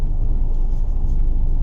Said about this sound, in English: I'm driving a Mercedes today, Gigaspace.